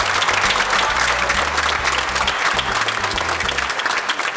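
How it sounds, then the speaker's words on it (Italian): Loud, continuous applause fills an award ceremony hall, a thick crowd of clapping hands close by, holding steady throughout with a low tonal hum beneath. "applauso se lo meritano"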